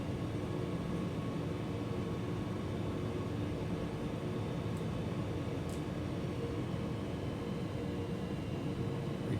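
A light aircraft engine in Microsoft Flight Simulator 2020 drones steadily at low throttle, a constant broadband hum with no change in pitch, heard alone.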